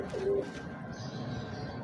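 Pigeons of a big breeder strain cooing close by, one short soft coo standing out near the start over a low, steady murmur of bird sounds.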